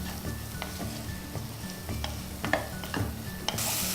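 Mushrooms stirred in a frying pan for Singapore-style rice noodles, a steady sizzle with repeated scraping strokes of the spatula, close and moderately loud, no talking.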